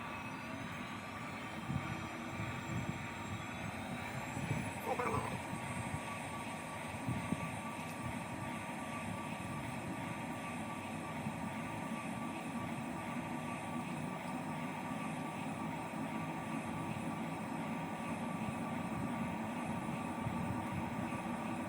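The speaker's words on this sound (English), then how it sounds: "All set, let's take off." A Boeing 737-800 takes off from Chandigarh bound for Shimla, its engines a steady, muffled roar heard from inside the cockpit, faint and continuous throughout with no voices.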